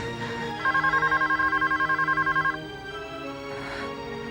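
A telephone ringing indoors in a busy household scene, a rapid electronic trill repeating for about two seconds, fairly loud over background music, then silence.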